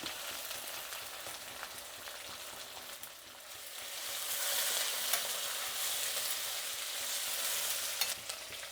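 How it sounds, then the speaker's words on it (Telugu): Dried red chillies, green chillies and crushed garlic frying in oil for a mango dal, giving a steady, soft sizzle that swells midway with occasional stirring scrapes. "చూడండి పచ్చిమిర్చి, ఎండుమిర్చి, అలాగే తెల్లగడ్డ ఇవంతా బాగా వేగినాక మామిడికాయ ఒప్పులు వేసుకోవాలి"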